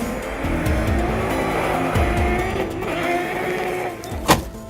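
An Andros DS3 ice-racing car pivots through a turn and accelerates hard out of it, the engine climbing through repeated revving gear changes with tyre scrabble, ending in a sharp bang.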